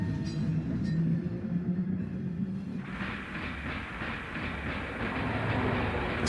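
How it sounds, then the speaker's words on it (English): A 1950s B-line streetcar in Oakland rolls along its rails, turning from 22nd Street onto Poplar Street, with a steady clickety-clack and low rumble; a faint high squeal joins partway through, no voices heard. "A B-line train turns off of 22nd Street to head down Poplar Street."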